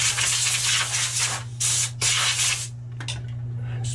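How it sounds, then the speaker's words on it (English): Compressed air blasts dust off a Birkenstock Milano sandal in several short, loud hissing bursts close to the mic, the longest about a second, over a steady low hum. "I'm gonna blow it off some compressed air"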